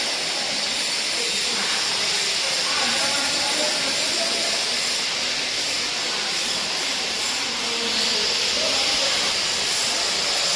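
Gas welding and cutting torches hiss steadily and loudly in a training workshop, a continuous broad rushing noise that holds for the whole stretch with faint background activity.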